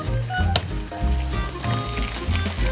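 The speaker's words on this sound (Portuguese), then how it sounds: "Vamos saltear rapidamente de um lado e do outro" Courgette slices sautéed quickly in a hot pan, crackling and sizzling loudly and close, with a sharp clatter early on as they are turned; background music plays throughout and no one speaks.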